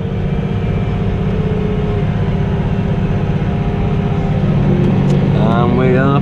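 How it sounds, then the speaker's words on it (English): A 240 CVX tractor drones steadily while power harrowing a field, a loud continuous engine hum with a mechanical whine, heard from the cab, rising slightly toward the end as a voice speaks briefly. "And we are power harrowing."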